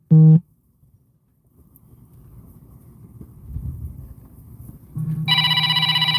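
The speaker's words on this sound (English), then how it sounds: "Phone call." A telephone rings for an incoming call, starting with a loud brief tone and later a steady electronic ringtone with bright repeating harmonics, over low background rumble and movement.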